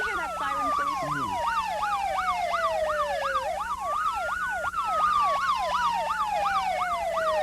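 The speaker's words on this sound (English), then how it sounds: "Could we hear that siren, please?" A wailing emergency siren cycles rapidly up and down in pitch, loud and steady throughout, with a second siren tone sweeping more slowly underneath.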